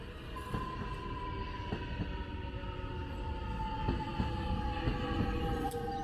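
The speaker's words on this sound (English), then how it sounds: "Now, if I was to get on this train, this city-bound train" A city-bound suburban train in Blackburn rumbles steadily nearby, with a sustained tonal whine and occasional rhythmic wheel clacks over a continuous low drone.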